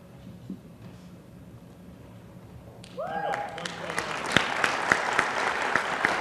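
Audience applause at a city council meeting, honoring a council employee named Kristen, starts around three seconds in after quieter room sound and continues steadily with sharp claps standing out, a few voices mixed in.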